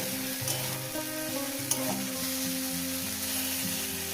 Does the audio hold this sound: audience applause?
no